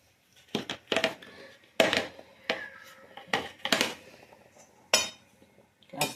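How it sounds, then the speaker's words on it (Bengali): A spoon stirs milk and jaggery in a pot on the boil, giving irregular scraping clinks and knocks against the pot's metal sides, several sharp strikes spaced across a quiet background. "আস্তে আস্তে এবার এটা নেড়ে দিচ্ছি।"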